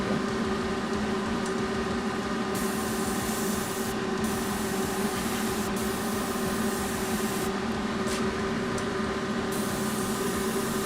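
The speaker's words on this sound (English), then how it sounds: "This is actually spraying now and compressing and doing all the fun." Steady hiss of an airbrush spraying paint onto Warhammer 40k miniatures while an air compressor drones underneath, continuous and fairly loud with brief dips in the spray.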